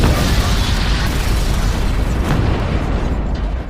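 A building explodes in a film scene, a loud, dense blast with rumbling debris that holds steady for several seconds before thinning out toward the end, with no talking.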